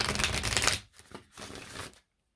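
Moonology oracle cards being shuffled by hand, two quick riffling bursts close up with a short pause between, then silence.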